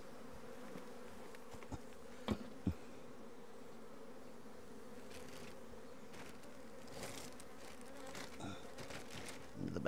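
Honey bees buzz around hives in a varroa-control drone-trapping session, a faint, steady drone of many insects close and far, with a few brief knocks and rustles breaking the hum and no talking.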